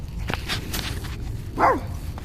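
A single dog bark rings out at a moderate distance over a low background rumble, with faint scattered noises before it.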